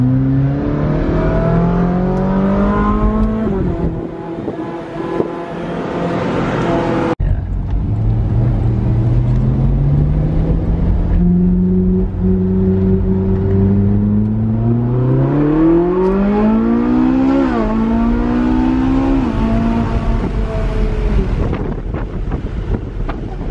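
A Ferrari 458 accelerates hard through its gears, the engine note climbing in long rising sweeps with brief shift breaks, loud and close with heavy wind buffeting over the top.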